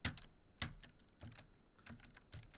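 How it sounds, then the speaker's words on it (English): Keys struck on a computer keyboard during a typing lesson, a handful of separate clicks and short clusters spaced unevenly, fairly quiet and close with no voices. "I'm going to press a few keys correctly in a row."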